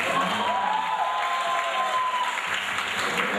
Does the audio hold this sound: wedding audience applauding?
yes